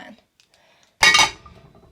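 Metal pots and pans clatter and clank loudly in a short burst as a frying pan is pulled out for cooking bacon, following a quiet pause after brief speech.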